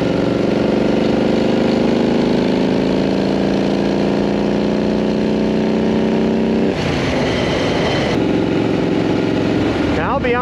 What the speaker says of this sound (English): doing a 50 to 70 roll-on in third gear